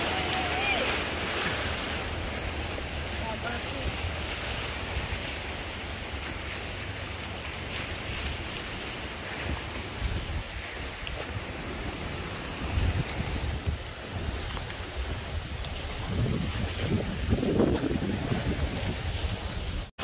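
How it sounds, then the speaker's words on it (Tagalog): Strong sea waves wash and roar steadily at the water's edge, mixed with gusty wind buffeting the microphone, loud and continuous with no speech. "Lakas ng alon dito sa dagat."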